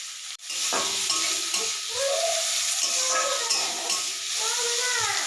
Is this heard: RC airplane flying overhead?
no